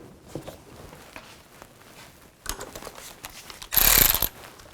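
A worm-drive hose clamp on the air intake snorkel of a 2000-2006 Chevy Tahoe is tightened down, giving a few quiet, intermittent ratcheting clicks and one louder burst of close mechanical rasping.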